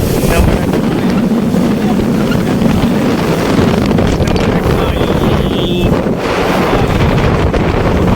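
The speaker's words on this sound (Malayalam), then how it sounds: "ഉന്നമടക്കായലിൽ ഒരു ബോട്ട് യാത്ര." Steady motorboat engine drone on Punnamada Lake backwater in Alappuzha, with rushing water and gusty wind buffeting the microphone, continuous and loud throughout.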